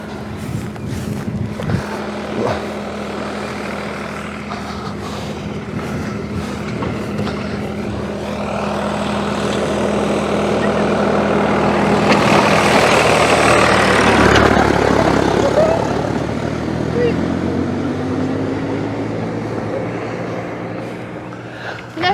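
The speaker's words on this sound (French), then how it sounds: "Vous allez vous garer parce qu'il y a le tracteur qui va passer." Farm tractor on a rural hiking trail, its low diesel rumble building as it approaches and passes nearby, then fading away, heard alone across about twenty seconds of steady engine drone.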